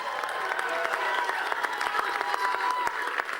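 Election night crowd at a Massachusetts special Senate race victory rally applauds and cheers steadily throughout, a dense wash of clapping with scattered shouts, loud and continuous.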